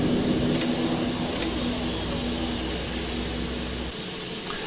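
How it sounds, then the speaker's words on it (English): Jet engines shut down in the Prepar3D flight simulator as an airliner finishes its flight to Istanbul: a steady roar and low hum fade gradually, and the deep drone cuts out near the end, leaving a quieter whine. "Let's go ahead and kill the engines."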